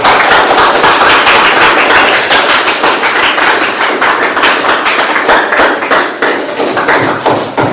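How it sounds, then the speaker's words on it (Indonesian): A classroom audience applauds students presenting their LKPD worksheet results, a loud, dense, continuous round of clapping that carries on without pause. "Berikan aplaus yang ada di depan"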